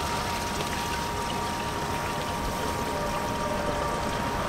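An RV waste tank empties at a campground dump station, producing a continuous, dense rush of fast-flowing liquid through the hose that stays steady and unbroken, with no talk.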